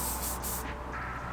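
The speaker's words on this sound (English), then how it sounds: "we're just going to spray into the air" An aerosol spray can hissing into open air outdoors for a homemade pro-mist lens filter, one steady burst over the first half-second or so, then dying away to faint background.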